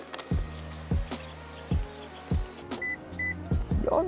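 A 2018 Lexus RX 350 F Sport power tailgate moves with a run of short, repeated motorized whirs and clunks, close and fairly quiet, with a brief beep between them and no voices.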